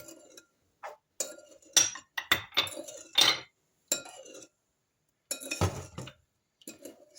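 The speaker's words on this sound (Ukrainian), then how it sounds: "Все це гарненько я розмішую" Metal spoon clinks and scrapes against a bowl while stirring sugar and salt, in irregular bursts, close by, with short quiet gaps between the stirring strokes.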